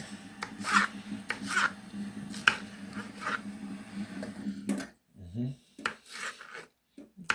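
A knife slices a snapper fillet into half-inch pieces on a board, making a series of quiet, rhythmic rasping strokes close by, then a few softer, scattered cuts.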